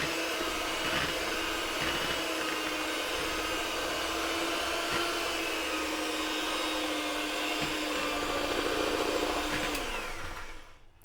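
An electric mixer beating flour into butter biscuit dough, a steady close whirring motor hum that holds even for about ten seconds before winding down at the end, with no talking.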